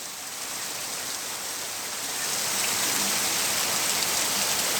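Steady, dense rain hisses throughout, growing slightly louder partway through, with no voices.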